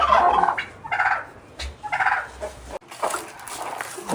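Turkeys on a farm gobble in several loud, rattling bursts close by, with a few short gaps of quieter background noise between calls.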